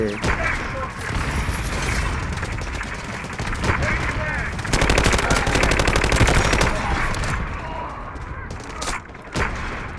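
Gunfire in the video game Delta Force: rapid automatic bursts and single shots crackle loudly, with a dense sustained volley in the middle, while a player talks intermittently.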